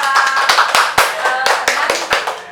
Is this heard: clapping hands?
yes